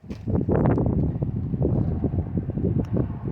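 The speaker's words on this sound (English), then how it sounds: "It's cold and windy out here" Strong gusting wind buffets the microphone outdoors at a storage container, a loud rumbling roar that holds steady throughout.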